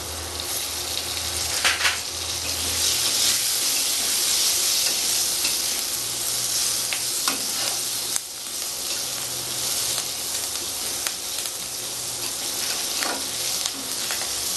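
Slit green chillies crackle in hot oil in a pan of potatoes with turmeric, a loud, steady hiss with scattered pops. The frying carries on alone without a break.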